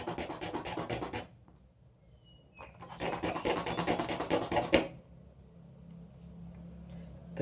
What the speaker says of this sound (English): I'm gonna sand it down by a little bit.